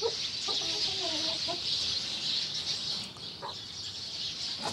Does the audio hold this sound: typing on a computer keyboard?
no